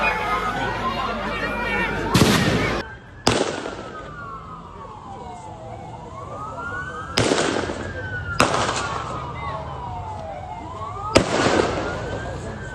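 Gunfire during the Bondi terror attack rings out as several sharp, loud cracks spaced a few seconds apart, heard from a distance over a wailing police siren and faint crowd chatter.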